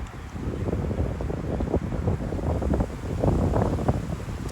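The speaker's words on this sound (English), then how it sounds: "So now it's raining sideways, wind 30 plus mile an hour gusts." Strong gusty wind, 30-plus mph gusts with sideways rain, roaring steadily into the microphone on an outdoor disc golf course, a dense low rumble swelling in waves with no voices.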